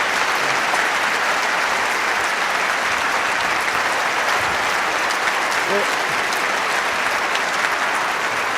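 Audience applause at the close of a public discussion event with Richard Dawkins and Lawrence Krauss: a dense, steady wash of clapping that holds at an even level throughout.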